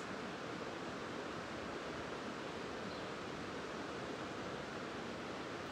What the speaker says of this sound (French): si vous entendez bien le son de la rivière